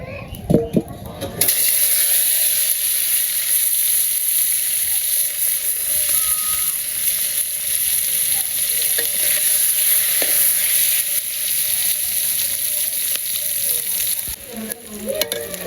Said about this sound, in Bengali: তেল গরম হয়ে গেছে, ডিমগুলো দিয়ে দিব।